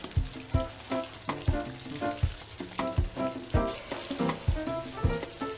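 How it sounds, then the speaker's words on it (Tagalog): Onions sautéing in melted butter for a buttered garlic seafood dish, with a loud, close sizzle and repeated stirring knocks of a utensil against the pan. "Ilagay natin yung ating sibuyas sa ating butter."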